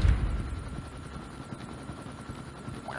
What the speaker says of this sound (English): Friendly stealth chopper inbound.